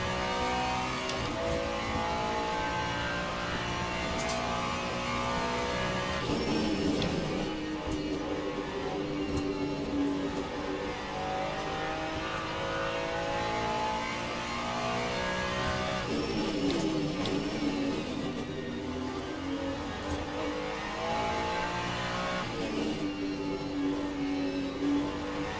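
Race car engine in Le Mans Ultimate on the Sebring circuit, droning steadily and loud throughout with rising and falling revs through gear changes, no talk over it.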